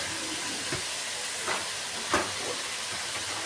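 Spices hissing as they fry in a pan with turmeric powder added, a steady close sizzle with a few soft stirring clicks and no talk.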